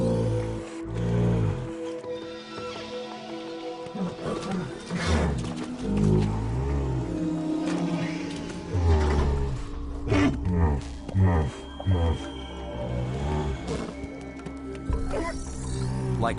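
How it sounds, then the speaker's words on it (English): Fictional alien herd creatures called unts exhaling through dorsal vents, heard as a long, loud, rumbling roar with deep groaning swells and overlapping calls, close and continuous for the whole stretch. "Unts are named after the sound they make when they exhale through their dorsal vents."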